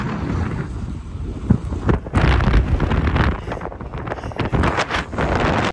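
Strong mountain wind on Monviso ahead of a massive storm, roaring and gusting hard across the microphone in a loud, continuous buffeting rush that swells and dips.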